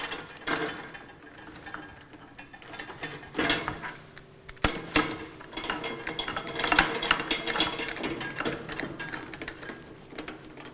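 A T-bar tightens the clamp on a pneumatic ATEX drum tumbler holding a 200-litre drum, producing close metallic clicks, ratcheting turns and clanks in irregular bursts, with one sharp metal strike partway through.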